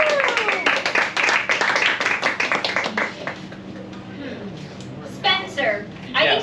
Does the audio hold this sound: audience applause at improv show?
yes